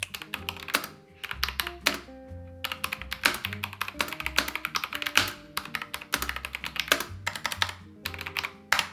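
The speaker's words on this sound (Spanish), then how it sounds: "si tú quieres un teclado mecánico, suenan así" Rapid, clacky mechanical keys are typed continuously in quick bursts, close and crisp, over a soft background tone.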